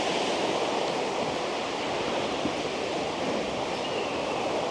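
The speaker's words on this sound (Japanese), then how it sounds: "見てください、川があります。" A river rushes beside an outdoor hot spring set in natural surroundings, producing a steady, loud broadband wash of flowing water that holds even throughout, with no voices.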